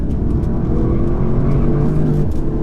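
Engine of a 2019 Audi S3 saloon heard from inside as the driver lifts off the throttle: a loud, steady low drone with road noise, continuous throughout and without a distinct rev change.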